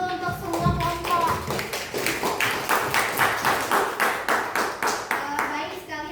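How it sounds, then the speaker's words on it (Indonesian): A classroom group claps together, a steady run of close, bright handclaps lasting several seconds with a teacher's voice speaking over the start. "Tepuk tangan dulu untuk semua kelompok."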